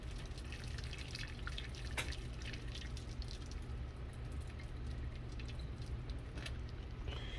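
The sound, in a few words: water pouring into ramen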